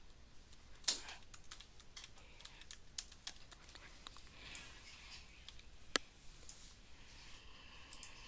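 Quiet, close-up taps on a computer keyboard as a password is typed, irregular soft clicks with a couple of sharper key strikes against a faint background hiss.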